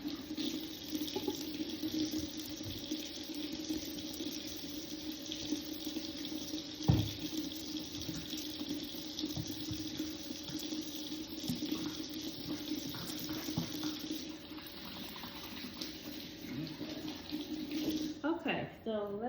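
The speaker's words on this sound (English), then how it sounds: "Wash my hands." Tap water runs steadily into a kitchen sink as hands are washed before making meatloaf, a continuous splashing hiss lasting the whole stretch with a brief knock partway through.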